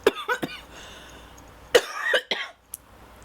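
Several sharp coughs in a short series, then a pause and a few more hacking coughs, close by in a quiet room.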